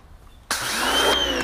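A pressure washer starts abruptly and runs with a steady, loud hiss and whine for just over a second, close by, after a quiet moment.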